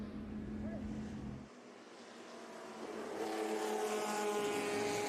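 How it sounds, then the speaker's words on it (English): IROC race cars warming up in the paddock at the Monterey Motorsports Reunion, engines droning and revving at a moderate distance with a steady rising tone, wind noise and some faint talk underneath. "If you can hear engines roaring, I'm currently down in the paddock getting an eyeful of the IROCs warming up"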